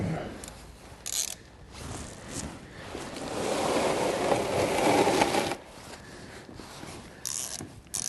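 A ratchet works an 8mm Allen head drain bolt loose on a CFMoto Z950 Sport differential, giving bursts of clicking and longer stretches of close mechanical rasping, with brief pauses between strokes.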